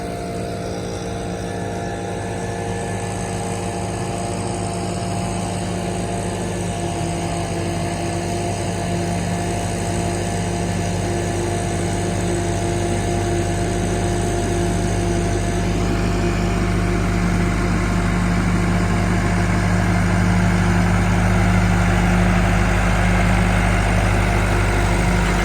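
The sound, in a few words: Allis Chalmers tractor pulling a rake across the yard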